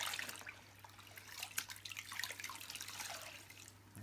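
Warm water mixed with a little Flash cleaner sloshes and trickles in a bucket, a soft continuous splashing with faint drips, heard up close.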